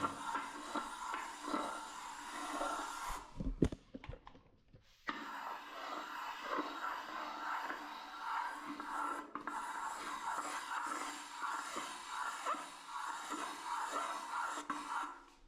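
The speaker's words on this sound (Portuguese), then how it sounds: "conforme a gente vai esfregando ela na parede, ela vai como se fosse riscando" A metal paint can is rubbed against a wall to scratch a marking line while preparing the wall for painting, giving a continuous, fairly quiet scraping and rasping with soft rhythmic strokes and a brief pause partway through.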